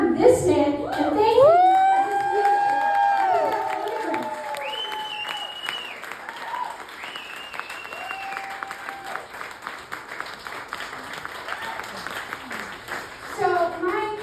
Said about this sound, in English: Let's cheer on this man and thank him for his